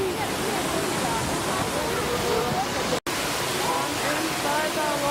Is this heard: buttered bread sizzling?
no